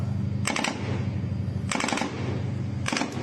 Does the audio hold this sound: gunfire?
yes